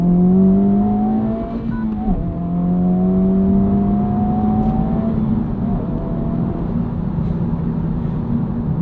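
A 2025 Honda Civic Type R pulling out of a roundabout, its engine loud and close from inside the cabin as it revs up through the gears in rising drones, with a brief shift dip, over steady road roar.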